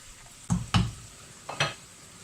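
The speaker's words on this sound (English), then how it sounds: "Stir that in. Right, good stir in. Put that into the sauce." A spoon works through chicken curry sauce in a big pan in two pairs of thick, thudding scrapes and sloshes, each quick pair followed by a pause over a faint background hiss.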